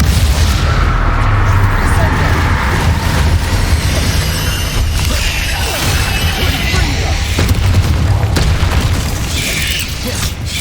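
Repeated booming spell blasts, including Bombarda, in Hogwarts Legacy Dark Arts combat: a dense run of loud, close explosions and crackling impacts over about ten seconds, with shouted spell names among them.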